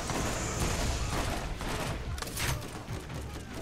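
Rapid gunfire from the player's weapon in the video game Borderlands, a dense continuous burst of shots lasting several seconds with a few louder cracks, close and loud with no talking.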